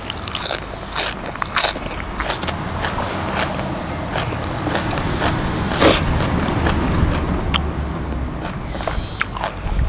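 Crunchy bites and chewing of fresh raw vegetables such as Chinese cabbage and water spinach, eaten with sweet beef liver, loud and close with repeated crisp crunches and a steady chewing rhythm, no talking.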